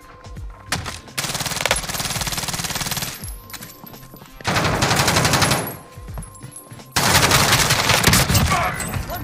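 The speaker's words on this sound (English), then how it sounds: "I was shooting him through the floor." Rapid automatic gunfire in a first-person shooter video game, loud bursts of machine-gun fire separated by short gaps, with faint voices underneath.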